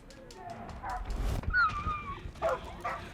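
A dog in the Far Cry 5 video game whimpers and yips in short, mid-close bursts over gameplay noise and background music, with no clear barking.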